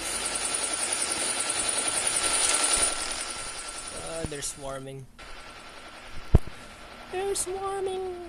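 A helicopter in the Call of Duty Mobile video game drones loudly at first, then recedes amid gunfire bursts, a sharp shot and game voice callouts during a hardpoint match.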